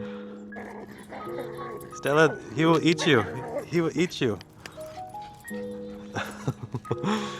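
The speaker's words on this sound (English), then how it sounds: "It's a big bulldog. It's a big old bulldog." A big bulldog out on a walk gives a few whimpering yips and short barks near the microphone, mixed in with a person talking and some brief faint tonal chirps.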